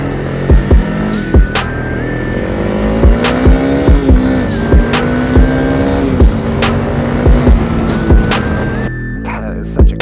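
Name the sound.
Honda CRF300L motorcycle engine pulling uphill in sixth gear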